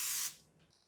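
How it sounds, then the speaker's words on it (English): Cooking spray from a can hisses onto a waffle iron in one short burst, close and steady, then trails off into quiet. "Again, I'm going to spray."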